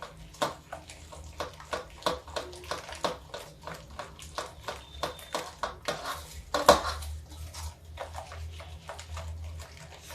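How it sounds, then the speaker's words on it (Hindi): Gram flour and rice batter is whisked in a bowl, giving a steady run of quick rhythmic taps and scrapes of a utensil against the bowl, close and fairly faint, with one louder clink partway through. "इसको धीरे धीरे हम चलाते रहेंगे, घोल जैसे गांठें न पड़ने पाए।"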